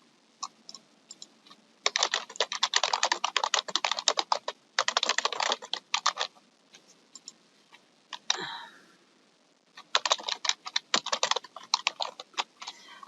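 Fingers type on a computer keyboard at close range, with quick clattering bursts of keystrokes separated by short pauses and a few isolated taps. No one speaks.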